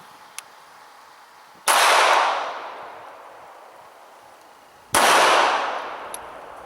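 Two loud, sharp shots ring out from a Sig Sauer P238 .380 pistol fired at a target five yards away at a range, about three seconds apart, each followed by a brief decaying ring.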